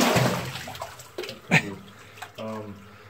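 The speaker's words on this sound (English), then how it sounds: "I'm gonna tread forward and see if I can make it through this deep water." Sloshing and splashing ring out as someone wades through deep water in a mine, with irregular swishes and a sharper splash echoing in the enclosed space, alongside brief vocal sounds.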